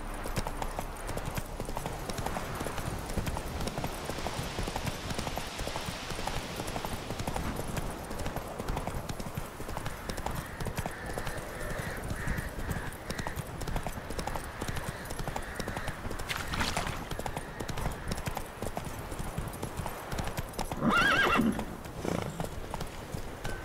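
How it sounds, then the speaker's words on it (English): Hoofbeats of a horse galloping steadily in The Witcher 3 video game, a continuous clip-clop rhythm throughout, with a neigh or whinny breaking in near the end and a voice speaking over it briefly. "Whoa there, Roach."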